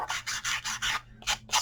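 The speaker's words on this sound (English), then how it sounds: "So you can sand it with a sanding block." Paper edge of a craft tag rubbed with a sanding block, six quick scratchy back-and-forth strokes in a brisk rhythm, close and crisp, no talk.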